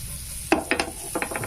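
Pav buns meet a hot tawa, giving a soft low sizzle under a few sharp clicks and scrapes from handling, spaced irregularly, with no talking.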